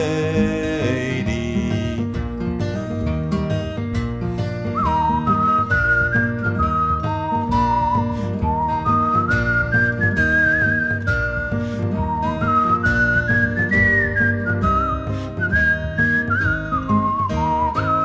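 A person whistles a folk song melody, The Gypsy Rover, in a clear, continuous line of sliding and held notes over steady instrumental backing, loud and close throughout, with no talking.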